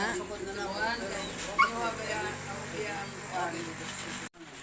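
A small, fat dog yips and whimpers close by on a farm, high and excited, mixed in with people talking over it throughout.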